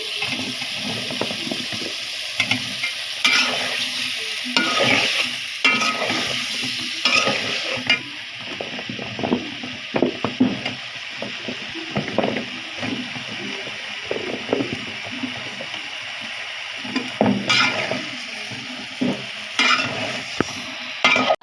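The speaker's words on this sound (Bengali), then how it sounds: "মশলাটা কষানো শেষ লাউ দিয়ে নিচ্ছি" Bottle gourd is stirred into fried spice masala, a long run of scraping, clattering spoon strokes over a wet sizzle and watery splashes, close and busy, with no one speaking.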